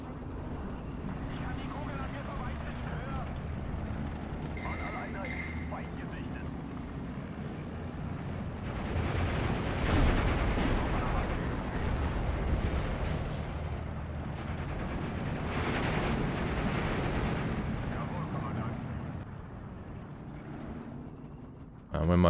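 Artillery barrage in the WWII strategy game Steel Division 2, with about five guns pounding an enemy position in a battle near Smolyan. Dense, continuous rumbling blasts swell toward the middle while a player talks over it.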